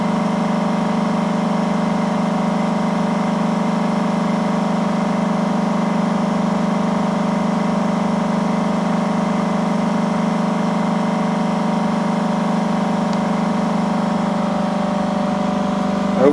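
An 8-inch high-speed 3-6 pulse motor with three coils and six circuits runs steadily, giving a loud, constant electrical hum with a strong low drone and layered whine that holds unchanged throughout, with no voices.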